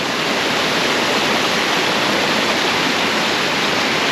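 Water rushes steadily through an irrigation channel at Garam Chashma in Chitral, a loud, unbroken roaring hiss close by with no pauses.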